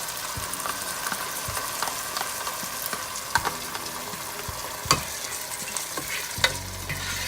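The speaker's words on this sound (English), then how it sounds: "I'll give this all a good stir" A spoon stirs tomatoes into a sizzling potato and pea curry, with soft, even frying hiss broken by a few sharp scrapes and taps against the pan.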